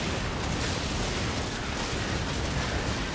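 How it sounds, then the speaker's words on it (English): A ninja's grenade blast in a Total War battle erupts as a dense, loud, roaring burst of explosive noise with no break, saturating the soundscape and carrying a continuous battle din. "And then the Kisho Ninja almost instantly grenades the general."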